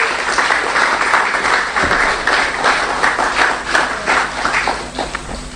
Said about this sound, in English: So a round of applause for Mrs. Moplezi and a wonderful staff